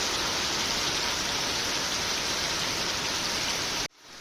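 Heavy rain pours down in a dense, steady roar for several seconds, then cuts off abruptly near the end.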